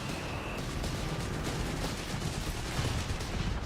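Steady, continuous battle din in the Company of Heroes 3 strategy game, with distant rattling small-arms fire and scattered shots blended into a constant roar, no speech over it.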